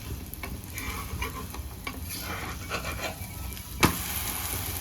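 Wheat flour pudla sizzles steadily in an oiled pan, with a loud scrape and clatter partway through as the pancake is flipped over, and the frying hiss continues afterwards.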